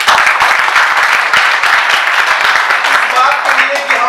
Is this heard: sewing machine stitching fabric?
no